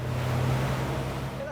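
Rushing water and wash from the FIM 440 Regina motor boat's wake while planing at speed, a loud continuous roar with a low steady engine hum underneath.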